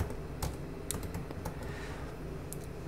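Computer keyboard keys tapped for Photoshop shortcuts while editing a music cover design, a run of quick close clicks over steady room noise.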